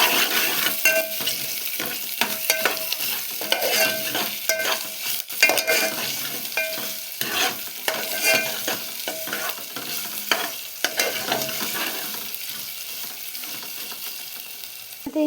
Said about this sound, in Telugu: అల్లం వెల్లుల్లి పేస్ట్ కూడా యాడ్ చేసుకొని ఒకసారి కలుపుకుందాం